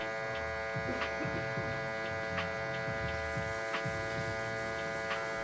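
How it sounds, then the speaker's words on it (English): Electric hair clipper running steadily for a burst fade haircut, the last tooth worked close to the hair with the lever fully open, a constant tonal hum with faint periodic ticks as it passes. "I'm using literally just that last tooth of the clipper"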